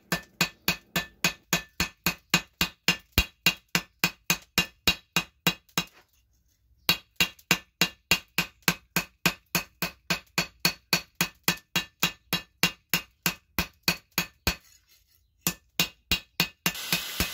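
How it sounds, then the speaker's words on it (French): Steady, rhythmic hammer blows on a piece of damascus steel being flattened at the forge into a knife blade, ringing metallic strikes repeating about twice a second, with a brief pause midway and another near the end. "Une fois que le damas est terminé, j'aplatis mon morceau d'acier pour pouvoir en faire une lame."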